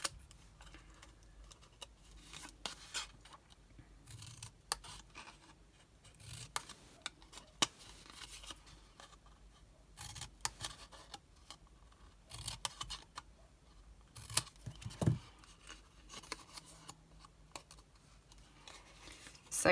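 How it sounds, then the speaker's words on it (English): Scissors cut paper on opposite sides in a windmill pattern for a candle swap craft, making soft, irregular snips and rustles spread over roughly twenty seconds, close and quiet, with no talking. "I'm going to do what I like to call as the windmill cut"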